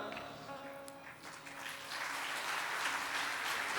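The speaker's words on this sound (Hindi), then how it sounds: "ताली पहले हो गई।" An audience at a Hindi religious discourse on devotion between husband and wife breaks into applause, a dense wash of clapping that swells noticeably louder partway through and stays fairly soft and distant.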